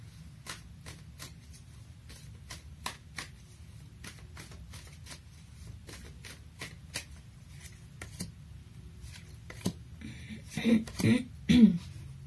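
Tarot cards being shuffled and drawn, a run of crisp dry flicks and taps, close and fairly quiet, with a few louder rustles and a brief voice toward the end.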